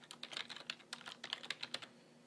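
Fingers typing a social security number on a computer keyboard, a quick run of close, crisp key clicks in uneven bursts, alone with no talking.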